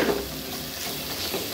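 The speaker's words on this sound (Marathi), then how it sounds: "हे मी असं छान अगदी 2 मिनिटं असं परतलेलं आहे" Flower shrimp (karandi) sauté in hot oil in a pan, giving a steady close sizzle with light stirring scrapes and no voices.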